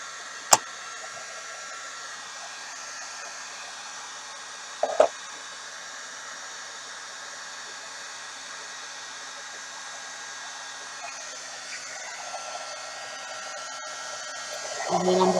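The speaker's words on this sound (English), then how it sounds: "I'm just going to go ahead and turn on my heating gun" A heat gun blows hot air to melt material on a card, producing a continuous even hiss that runs the whole time, with two sharp clicks near the beginning and a slight rise at the close.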